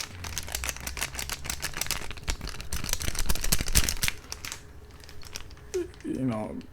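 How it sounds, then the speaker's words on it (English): Cheap plastic Technics headphones, flexed by hand, give off a close, rapid run of crackling creaks, pops and rattles, crinkly and uneven, and someone speaks briefly near the end. "As you can see, it creaks and pops and rattles and stuff. It's cheap plastic."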